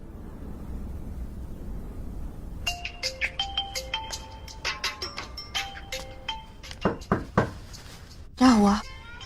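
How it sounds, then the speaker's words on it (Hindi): A mobile phone rings indoors with a repeating electronic melody of short bright tones. A few dull knocks follow, and then a voice speaks briefly. "मिस है, आपका फोन बज रहा है।"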